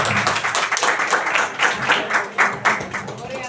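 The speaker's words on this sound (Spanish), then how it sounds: "Denle un aplauso a Dios y siempre." A crowd applauds with dense, steady clapping throughout, fairly close and lively.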